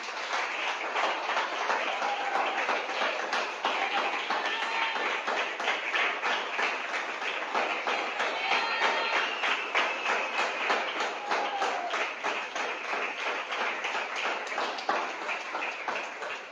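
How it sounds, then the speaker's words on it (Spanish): Sustained applause from a church congregation during a Spanish-language evangelical service in Bucaramanga, steady dense clapping that carries evenly from start to finish with no speech over it. "Denle un aplauso a Cristo, gloria a Dios."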